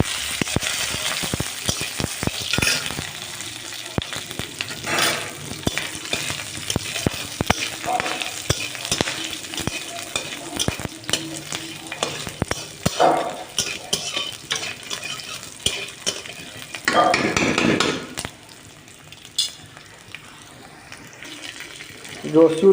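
Garlic, nigella seeds and green chilies fry together in hot oil while being stirred, producing uneven sizzling broken by frequent utensil clatter and scraping, with a louder burst of frying near the end.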